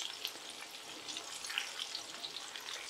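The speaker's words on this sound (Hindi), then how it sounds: "फिश हमारा अब अच्छे से फ्राई हो चुका है" Fish frying in oil on a low flame, a soft continuous crackle and sizzle with small scattered pops, fairly faint and steady throughout.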